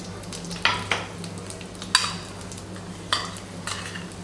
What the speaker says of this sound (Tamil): நல்லா மணம் வர வரைக்கும் வறுத்து எடுத்துக்கோங்க